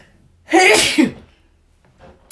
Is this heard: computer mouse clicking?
no